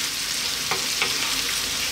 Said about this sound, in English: Garlic ginger paste, in that goes.